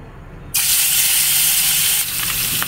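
Fish dropped into hot oil in a kadai burst into a loud, sudden sizzle that holds as a dense, steady hiss, easing slightly near the end with small crackles.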